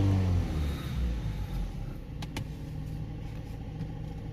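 Ford Transit 2.2 diesel engine with underboost and DPF faults, held at a steady raised speed near 3000 RPM, a continuous close drone with a few brief clicks partway through.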